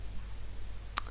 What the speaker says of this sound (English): Sorry if you can hear crickets in the background.